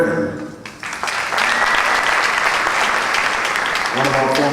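An audience at the Night of Champions 2010 event applauds former Mrs. Bermuda winners; a brief voice at the start gives way to loud, dense, sustained clapping from many hands.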